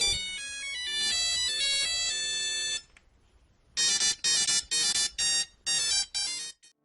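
A ringtone plays loudly on its own as a bright electronic melody, then stops briefly and returns as a series of short, evenly spaced repeated phrases.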